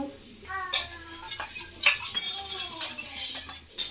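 A spoon clinks and scrapes against a bowl while omelette batter with turmeric, chili and coriander powder is stirred, in a rhythmic series of metallic taps with some background voices.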